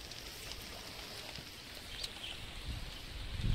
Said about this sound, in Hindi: देख सकते हो फ्रेंड्स कितना बारिश गिर रहा है।